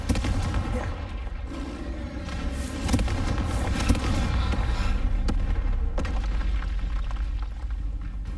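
Confringo spell blasts in Hogwarts Legacy ring out amid combat, several sharp booming impacts at irregular intervals over a sustained bed of crackling and rumbling effects, loud and close.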